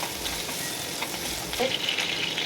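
Onions and slit green chillies frying in a pan for a Bengali-style chicken dish, with a steady close sizzle and light stirring scrapes throughout, no voices.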